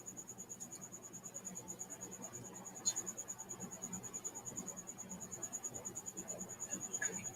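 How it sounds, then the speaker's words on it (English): A cricket chirps steadily throughout, a fast high-pitched pulsing trill that stays constant over a quiet room background with faint low rumble. "oh man, that Cricket is really crazy."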